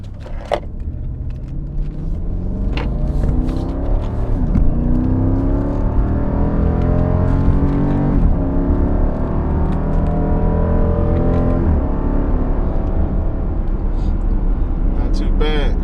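A car fitted with 3D-printed paddle shifters pulls away in first gear, its engine note climbing in rising sweeps as it accelerates through the gears, loud and close, with a steady whir underneath.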